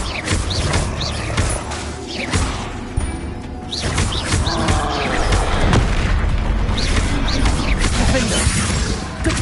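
Booming fire spell blasts from Incendio casts in Hogwarts Legacy, a loud, dense clash of bursts and crashes filling the whole stretch with little pause, layered over game action with a voice speaking.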